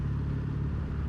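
A Triumph Bonneville T140V motorcycle with new exhaust pipes ticks over at low throttle, a steady low engine rumble held close and even, ridden gently through narrow urban streets.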